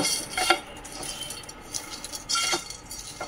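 A spoon clinks and scrapes against a pan while kasuri methi is stirred into hot matar paneer, a few close metallic taps over a soft, faint background sizzle.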